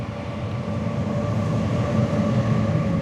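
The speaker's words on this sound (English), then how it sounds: "The train rolling through. That's one of the suburban trains." Suburban train rolling through an underground through station in Zurich, a steady loud rail rumble with tonal hum, sustained and close, no voices.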